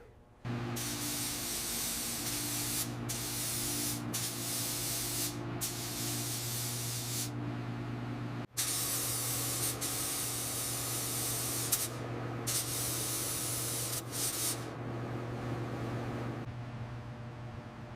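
A spray gun hisses in long continuous bursts of primer with brief pauses between, a steady mechanical hum running underneath throughout, during restoration of a 1937 Packard Super 8.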